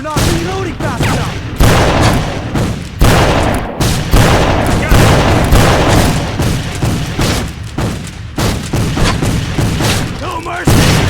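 Loud, dense gunfire and booming blasts fill a Civil War battle in a PC game, repeated volleys and cannon-like thumps crowding together, with faint shouts mixed in.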